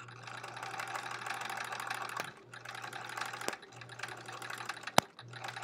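A sewing machine stitching a quilt block for the Splendid Sampler 2 quilt, with a steady close mechanical hum and rapid needle rhythm in several runs separated by short pauses, plus a sharp click near the end.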